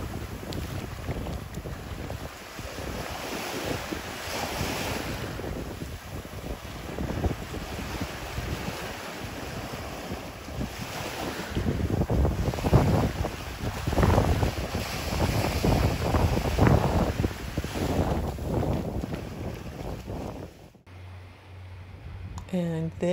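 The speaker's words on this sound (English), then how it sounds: "I'm gonna be quiet and let you enjoy some beach time" Waves wash onto a Sanibel Island beach while gusty wind buffets the microphone, a loud, steady roar of surf that builds toward the middle, with the sound cutting out abruptly near the end.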